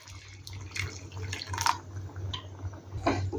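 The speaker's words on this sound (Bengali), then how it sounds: "তাই দেবো অল্প পরিমাণে গরম জল।" Hot water trickles and drips into a pot of mung dal cooking with potato and pointed gourd, a soft continuous pour with a few brighter splashes, close and fairly quiet, with no talking.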